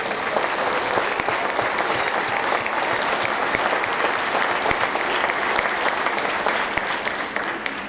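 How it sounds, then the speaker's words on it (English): At a sixth-grade awards ceremony, an audience gives sustained applause for students with perfect attendance. The full, steady clapping of many hands continues at an even level throughout and is loud and close. "we can give them a round of applause for perfect attendance"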